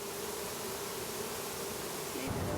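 Honeybees buzzing around a backyard hive in San Francisco make a dense, continuous drone that holds steady and close, with nothing else audible over it.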